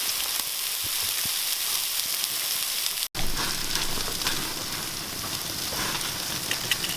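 Four slices of bacon wound around a found woodland stick sizzle and crackle steadily over a campfire grate, a dense close hiss broken by one brief cut, with no talk.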